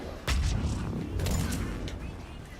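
Mass Effect 3 combat: explosions and bursts of gunfire crack out in a sudden loud cluster, followed by rumbling booms that fade slowly.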